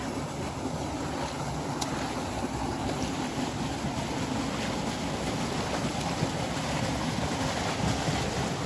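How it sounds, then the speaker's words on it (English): Small waterfall in The Narrows, Zion National Park, a steady broadband rush of falling water heard from nearby with no break, wind noise mixed in, and no voices. "Pretty little waterfall back there."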